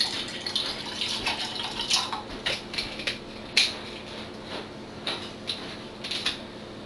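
Bottled water, brand Smart Water, poured from a bottle, giving a series of close, uneven splashing and gurgling bursts with no voices present.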